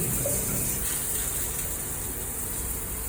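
A newly installed shower runs steadily in a renovated first-floor bathroom, with a continuous hiss of spraying water at moderate level and no talk.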